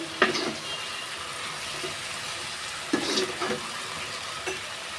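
Chili, spices and turmeric sauté in a pan, giving a low steady sizzle broken by a few soft spatula scrapes and stirring knocks at a moderate distance.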